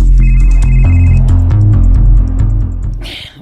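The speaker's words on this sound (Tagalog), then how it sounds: "Nanawag na sad ay." A phone ringtone signals an incoming call, a loud melodic tone pattern repeating steadily for about three seconds before cutting off into a short hiss.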